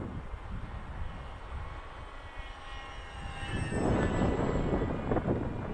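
A Skywalker Falcon RC plane passes overhead, its faint electric-motor whine rising from a distant drone to a louder, nearer buzz with rough wind noise in the final seconds.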